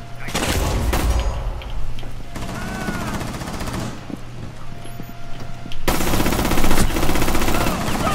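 Automatic gunfire in the video game Rainbow Six Siege, dense bursts rattling loudly through most of the stretch, with a heavy sustained volley near the end and faint talk underneath.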